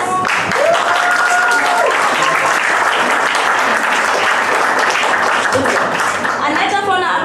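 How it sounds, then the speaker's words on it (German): Loud, dense applause from the crowd at a Ben & Jerry's scoop shop opening in Berlin fills the space evenly and continuously, with a few voices mixed in. "Großen Applaus!"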